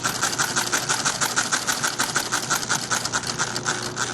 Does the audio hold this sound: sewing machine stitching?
yes